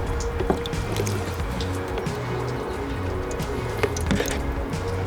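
Water drains slowly out of a hole in a Jeep XJ Cherokee during leak repair, a steady close trickle with scattered drips and wet squishing.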